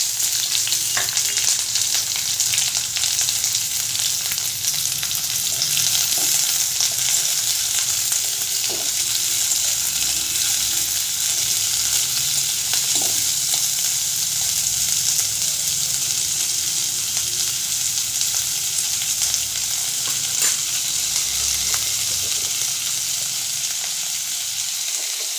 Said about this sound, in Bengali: পেঁয়াজ কুচিগুলো দিয়ে দেব, কাঁচা লঙ্কার কুচি, পেঁয়াজ কুচিগুলো দিয়ে দিলাম।